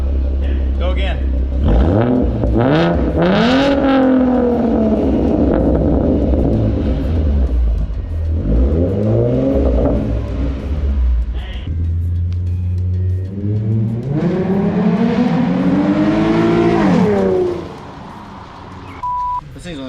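Several loud, close revs from a Ford Mustang 3.7L V6 with Roush intake and exhaust, each rising and falling around a throaty idle, before the engine cuts off near the end.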